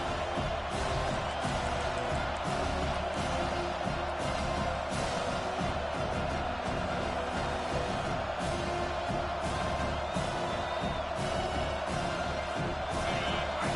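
A home crowd roars at a college football game during a third-down defensive stand, a dense, loud, sustained wash of cheering and yelling that fills the whole stretch.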